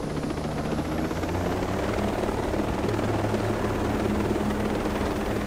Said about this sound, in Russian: Там вертолет стоит.